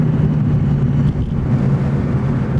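A stock 2018 Ford Focus ST runs hard on a race track, its engine a loud, steady low drone with a brief dip in the middle, heard close from inside the car without speech.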